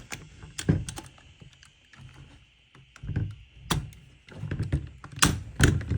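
Close, small metallic clicks, taps and thunks as a Remington 1100 shotgun trigger assembly is wiggled and pushed up into the receiver, irregular and sharp over a quiet background.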